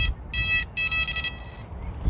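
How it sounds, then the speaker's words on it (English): Electronic carp fishing bite alarm set to maximum sensitivity, giving two close, loud high-pitched continuous beeps, the second longer, over steady outdoor lakeside background noise. "So if I turn this alarm on, it picks up when a fish takes."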